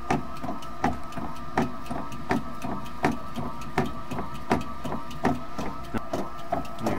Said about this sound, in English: Maybe a little more planking with the agitator in this one, because it might be just a little bit more worn out.